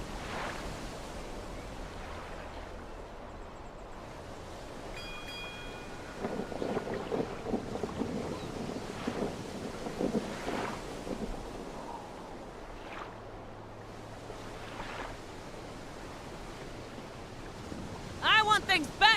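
Storm wind gusts and waves wash around a sailing ship at sea in Neverwinter Nights 2: Storm of Zehir, a steady low rushing bed with swelling surges and faint creaks, while a voice speaks over it.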